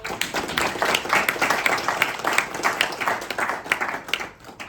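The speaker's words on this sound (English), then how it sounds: "let's give a round of applause for" An audience claps steadily in a dense, sustained round of applause that tapers off slightly at the end.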